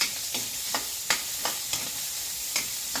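Garlic and onion frying in a pan give a constant soft sizzle, broken by a handful of sharp stirring clicks that come at fairly regular intervals, up close, with nobody speaking.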